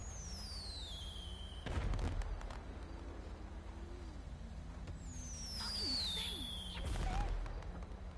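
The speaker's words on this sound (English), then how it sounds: "They shoot me with a firework launcher in the middle of a scene." Fireworks go off from a firework launcher in a roleplay video game, giving two loud whooshing bursts with whistling streaks over a low engine-like rumble, and no speech.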